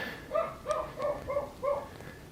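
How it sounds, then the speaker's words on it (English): A dog left outside barks in a steady series of about five sharp, evenly spaced woofs at moderate distance, with no talk over them. "They leave him outside all the time and he just barks all day long."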